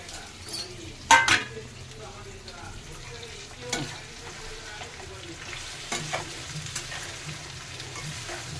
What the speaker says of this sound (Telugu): అంతే, ఎండుమిరపకాయ వేసాను